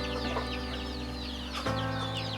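Chickens clucking near a nesting spot at a rural Philippine home on a rainy day, steady close clucks and chatter over a constant low background hum.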